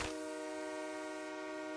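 A train horn blares in the BGMI video game, a sustained tonal horn held steady and loud from the start, heard alone with no talk over it.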